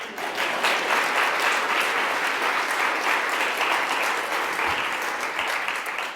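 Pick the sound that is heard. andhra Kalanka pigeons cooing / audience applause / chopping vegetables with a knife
audience applause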